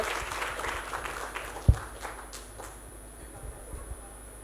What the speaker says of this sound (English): please give a round of applause for Dr. Willy.